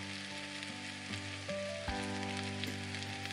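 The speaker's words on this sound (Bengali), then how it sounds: "এটাকে আমি হালকা ফ্রাই করে নেব।" A spoonful of whole cumin seeds and spices lightly frying in oil for a South Indian style egg and coconut dish, giving a steady close sizzle with a faint background hum, no talking.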